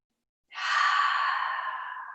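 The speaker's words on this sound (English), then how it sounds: "And breathe here." A long, audible exhale during a gentle yoga stretch, a single deep breath that starts suddenly and slowly fades, heard close and alone.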